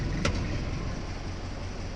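A 1953 Willys CJ3B Jeep with a newly replaced clutch drives along in second gear, its engine giving a steady, close, low rumble with road noise throughout, plus one brief sharp click near the start.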